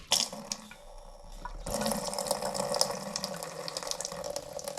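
A sink faucet opens to bleed pressure after the house water supply is shut off, a quiet trickle giving way to a loud, steady rush of running water that holds to the end.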